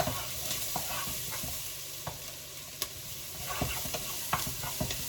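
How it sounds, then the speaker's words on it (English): Garlic and a bay leaf toast in a pan on an electric stove, giving a soft, steady sizzle. Small clicks and scrapes from stirring break through now and then, close and quiet, with no talking. "I just want the garlic to just toast up a bit"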